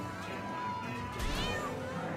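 A cat meows a few times in South Park: The Stick of Truth, fairly quiet and drawn out, sitting within game sound.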